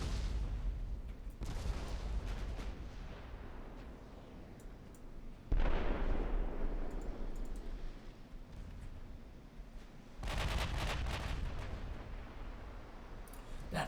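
Heavy naval gunfire from 10-inch shells in the warship game Ultimate Admiral Dreadnoughts booms in several dense, rumbling salvos, with loud broadband blasts at intervals over a continuous low roar.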